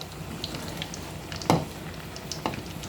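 Food sizzles steadily in hot oil over a medium flame, a dense continuous crackle with a couple of brief louder pops and spits.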